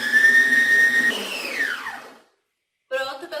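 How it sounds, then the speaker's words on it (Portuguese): An electric stand mixer beats cake batter at medium speed. A steady high motor whine slides down in pitch as it slows and cuts out, then a voice begins speaking after a short silence. "Então, eu vou ligar agora e vou bater por 3 a 5 minutinhos mais ou menos, tá? Em velocidade média"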